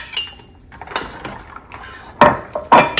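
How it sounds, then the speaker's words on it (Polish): A utensil stirs pasta in a pot of boiling salted water on a gas stove, giving a few light metallic clinks and scrapes with two sharper knocks near the end, close and fairly quiet. "Wrzucę teraz makaron, zamieszam."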